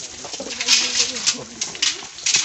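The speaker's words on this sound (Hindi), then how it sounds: "तो यहाँ पर बेसिकली हम लोगों को पंछी देखने को मिलेगा, बहुत सारे पंछी है यहाँ पर।" Pigeons or doves coo in a zoo aviary at Guwahati Zoo, soft repeated cooing mixed with bright chirps, while voices murmur faintly in the background.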